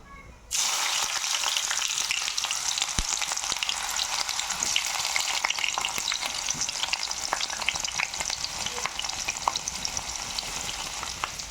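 Dried red chillies and chopped onions fry in hot oil with mustard seeds and cumin, a loud, steady sizzle that bursts in after a brief quiet start and keeps crackling evenly throughout, with no talking.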